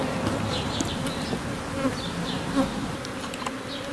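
Honeybees drone continuously in an outdoor bee yard, a dense buzzing swarm with individual bees whining past close by at moments, and no talk over it.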